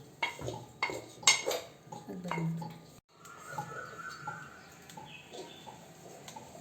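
Gobi manchurian batter of cauliflower and gram flour being mixed in a bowl, with several utensil clinks and scrapes against the dish, followed by softer continuous mixing noises; no talking.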